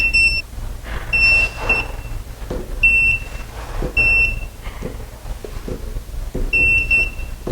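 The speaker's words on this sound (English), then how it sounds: "we're going to take our non-contact tester. We're going to turn it on." Non-contact voltage tester held at an electrical outlet, giving repeated short, sharp high-pitched beeps in irregular bursts over a steady low hum of background noise.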